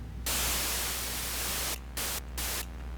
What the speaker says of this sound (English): it sounds more like white noise